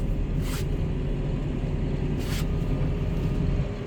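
A Kubota M7-174 tractor driving in first gear, a steady low engine rumble heard from close by, alone without talk.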